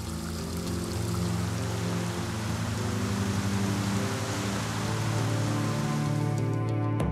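Steady rain pours down in a constant hiss, heavy and unbroken, with no voices, during flooding in La Londe-les-Maures, France.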